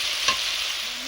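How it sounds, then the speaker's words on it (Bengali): Water hits a pan of potato and ridge gourd cooking in spices, a short hissing sizzle with a brief splash near the start, loud and alone. "এবারে জল দিয়ে দেবো।"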